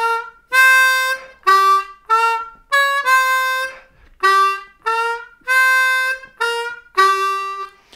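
A blues harmonica plays a riff with draw notes and half-step bends, in short loud phrases separated by brief pauses, heard alone and close.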